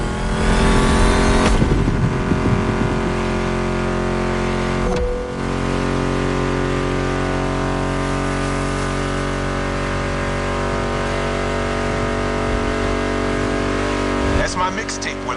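Car engines rev and drone steadily in The Crew Motorfest on PS5, a loud sustained engine roar with harmonic whine running the whole time alongside background music, with a brief dip partway through.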